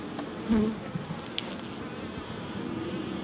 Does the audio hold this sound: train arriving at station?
no